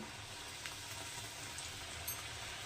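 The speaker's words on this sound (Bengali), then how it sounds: "তেল তো গরম হচ্ছে গরমই আছে তো তেলের মধ্যে আবার এগুলো ভাজতে থাকি" Nimki dough frying in hot oil, a faint, even sizzle that hisses steadily without pause.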